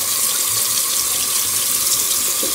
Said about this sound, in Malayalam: ഇനി ഞാൻ നല്ല തണുത്ത വെള്ളം റൺ ചെയ്യാൻ പോവാം